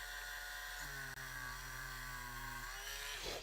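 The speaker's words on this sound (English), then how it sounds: "I'm gonna come in from the other side, drill a hole here." A small power drill bores a hole through the thin plastic wrist of an action figure, a steady whining motor tone ramping up and holding for a couple of seconds close by, then winding down.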